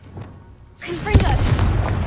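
Confringo fire spell from a Harry Potter video game: after a quiet start, a sudden loud blast bursts in and rumbles on as sustained crackling explosion noise, with a faint voice murmur early on.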